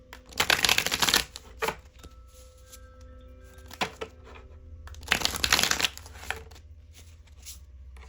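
Tarot cards being shuffled in bursts, a loud riffling flurry near the start and another midway, with softer card handling and light taps in between, close up and without talk.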